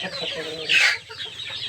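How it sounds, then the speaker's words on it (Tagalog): Black Australorp chicken clucking on a farm, a short loud call standing out over a steady background of other fowl noise, close by with no talking. "So ito naman yung ating Black Australorp"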